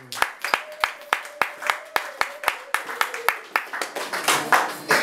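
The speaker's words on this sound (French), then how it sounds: "Est-ce que nous pouvons acclamer pour la parole du Seigneur?" A church congregation at a French-language sermon bursts into rhythmic clapping, loud and close, a steady run of sharp claps that grows denser toward the end, with a voice briefly heard.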